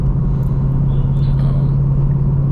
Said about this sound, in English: The noise that the Mustang makes is obviously better than the Tesla. You have that V8 sound